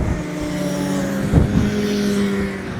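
Race cars on a track during a practice session, engines droning and shifting pitch as a car sweeps past with a brief louder surge midway, fairly distant against a steady background.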